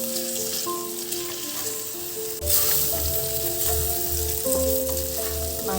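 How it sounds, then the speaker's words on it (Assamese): Goat mutton cooking with ground chili, cumin, coriander and garam masala gives a constant hissing sizzle that swells louder partway through, with a low bubbling rumble underneath and no talk. "আৰু অলপমান সময় ভাজি ল'ম।"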